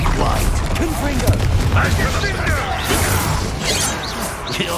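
A Confringo blasting spell explodes during Hogwarts Legacy combat: loud, dense crashing booms and rumbling debris fill the mix, with voices speaking over the battle noise.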